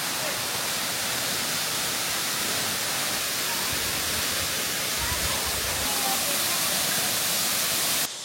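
A waterfall along a hiking trail roars as a dense, steady rush of falling water, loud and unbroken throughout, heard up close with no clear talk.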